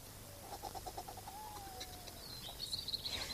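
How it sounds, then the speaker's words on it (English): Faint bird song in a woodland setting: a few soft, whistled chirps and a gliding note, heard at a distance over quiet background hiss. "some bird song."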